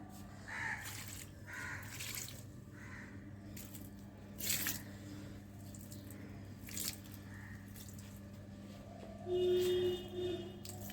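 Rice-washing water poured over potted plants, with soft intermittent splashes and drips over a steady low background hum.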